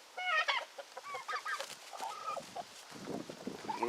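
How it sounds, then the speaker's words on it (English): Hens cluck and call close by, several birds making short rising and falling calls in quick succession. "One of these hens would whoop George up."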